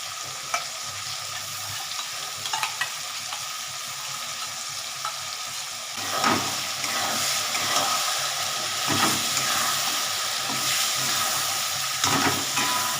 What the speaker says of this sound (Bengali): একটু কষিয়ে নিয়ে তারপরে ফুলকপিগুলো দেবো